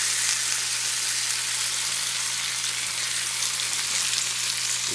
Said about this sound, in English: So we are in a fry pan in the fry right now. It's a potato.